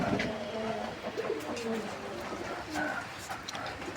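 Pigeons cooing in a pigeon loft in Thakurnagar, West Bengal, with Madras pairs housed there; several birds give overlapping low, throaty coos close by while someone speaks over them.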